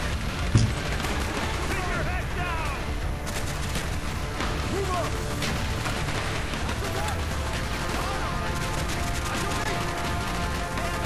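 Dense gunfire from Call of Duty: Black Ops, an SOG Veteran-difficulty mission, with rapid bursts, booming blasts and explosions layered continuously, loud and close, with voices underneath.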